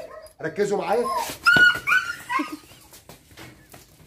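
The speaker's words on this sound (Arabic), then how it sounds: "ده الكلب الهاسكي اللي بيصوت لوحده" A husky dog whines and yelps in short rising cries close by, mixed with someone speaking over it.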